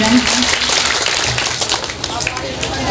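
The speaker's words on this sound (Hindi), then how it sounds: "जोरदार ताली हो जाए।" Applause from an audience at a school teachers' gathering, a loud patter of many hands clapping with crowd voices mixed in underneath.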